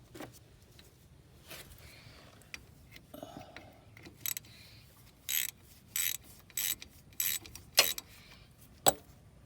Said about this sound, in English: all you got to do is unscrew that bolt that's there